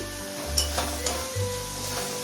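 Chopped ginger drops into hot butter and ghee in a pan, giving a steady close sizzle and frying hiss with a few soft stirring scrapes and clinks, and no talking.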